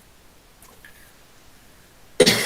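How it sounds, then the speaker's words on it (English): A single sharp cough from a man who is unwell bursts out loudly at the very end after a near-silent pause. "I'm a little unwell, so I'll be coughing."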